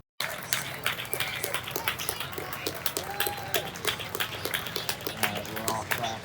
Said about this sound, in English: We're all clapping for Fred, a 96-year-old World War II veteran who just spoke.